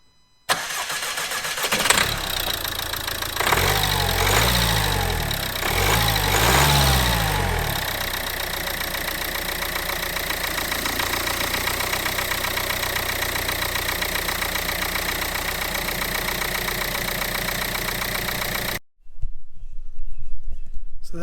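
A Mercedes A-Class W176 with a misfire just repaired by injector replacement cranks briefly and fires up, then settles into a steady, close idle that runs alone until a sudden cut near the end.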